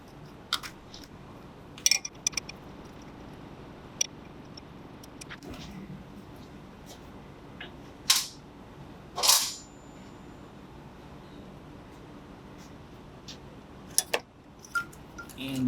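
A wrench works a 12 mm bolt loose from the EGR bracket on a Prius during a valve cover gasket job, giving a few sparse, sharp metallic clicks and ticks over a quiet background, with two stronger rasps near the middle.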